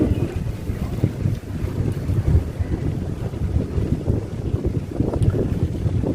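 Wind blowing outdoors at an open plaza where people ride BMX and fixed-gear bikes, a loud continuous buffeting rumble against the microphone with gusty fluctuations, dominating throughout.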